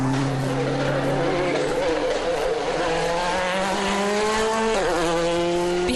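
A Peugeot 307 rally car races along a Tour de Corse stage, its engine note rising and falling through gear changes, loud and close, with faint commentary underneath.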